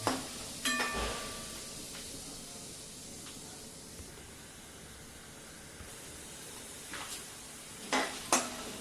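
Peanuts and small pieces of dried coconut fry in a pan for kurmura chivda, a steady low sizzle with occasional sharp scrapes and clinks of the stirring spoon, clustered near the start and again toward the end.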